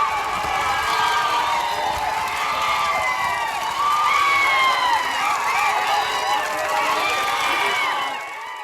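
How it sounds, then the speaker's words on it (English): A village crowd cheers and chants at a public flogging by police, a dense, steady roar of many voices with shouts rising and falling throughout, loud and continuous. "the villagers were cheering, they were chanting Bharat Mata Ki Jai"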